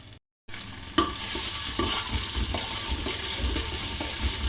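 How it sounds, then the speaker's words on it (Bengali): Ginger and garlic paste, about three spoonfuls, frying in a pot for Bangladeshi kacchi biryani, giving a steady close sizzle with stirring scrapes and occasional clinks throughout, no voices. "এরপরে আমি এর মধ্যে দিয়ে দিচ্ছি আদা এবং রসুনের পেস্ট অ্যারাউন্ড থ্রি স্পুন"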